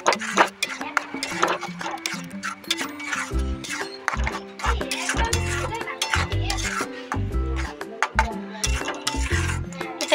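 Cashews, raisins and rice being stirred into masala in a pan for Bengali doi katla, a steady run of scraping spoon strokes and clinks against metal, close and fairly loud with no talk.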